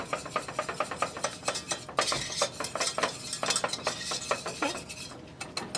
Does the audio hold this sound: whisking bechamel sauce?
yes